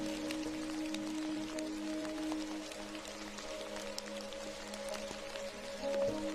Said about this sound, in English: the rain continues its steady serenade outside my window